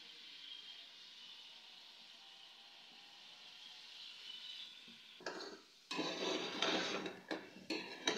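Chicken fries in a pan for Punjabi chicken pulao, starting as a faint background hiss before bursts of louder sizzling and stirring break in during the last few seconds.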